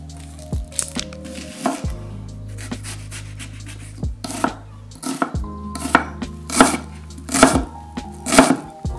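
Garlic cut on a board with a knife: a string of sharp, close chops, uneven and bunching into faster bursts toward the end, with softer scrapes between them and no speech.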